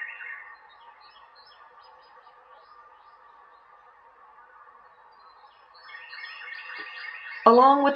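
A small bird chirps in a quiet natural setting, thin high tonal calls repeating over a faint steady background tone, becoming busier and louder near the end with a sudden sharp burst.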